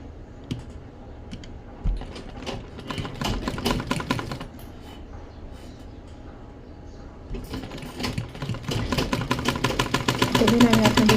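A sewing machine stitches narrow piping along the double-folded edge of a blouse, running in short rapid bursts separated by pauses and gathering into a longer steady run toward the end, close by and mixed with speech.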